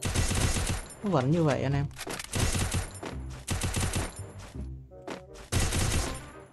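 Gunfire in the mobile shooter Free Fire played on PC, sharp repeated shot bursts coming in several clusters, loud and close, with someone talking over and between them.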